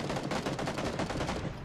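Rapid automatic gunfire in PUBG fires at a burning UAZ, as a dense, continuous burst of close shots rattling evenly for under two seconds, loud and alone.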